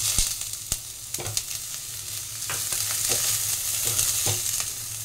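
Steady close sizzling of onion, ginger, garlic, capsicum, carrot and beans frying in a pan, punctuated by occasional sharp scrapes and knocks of stirring.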